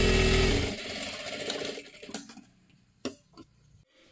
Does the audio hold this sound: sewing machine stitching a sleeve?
yes